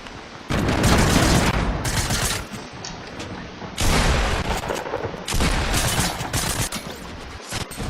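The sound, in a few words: gunfire in Fortnite video game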